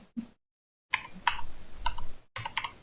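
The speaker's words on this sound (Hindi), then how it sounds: "मैं अब सेम वर्ड दोबारा टाइप करूँगा, बट मैं अरबिक वाला काफ इस्तेमाल करूँगा" Typing on a computer keyboard: scattered clicky keystrokes come close and distinct in short bursts with brief silent gaps, no voice.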